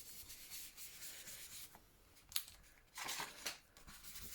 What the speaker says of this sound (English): I'm just going to get my trusty archival sepia and a glue book or an ink book, and I'm just going to rub around the edges